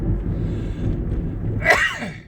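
A single close sneeze bursts out near the end over a low, rumbling background.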